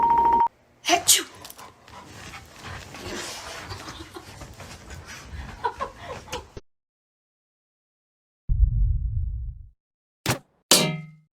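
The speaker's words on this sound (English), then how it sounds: "Achoo." A single sneeze sounds close and loud, set among clanging noises and brief chimes, with a pause of silence before further short sharp sounds.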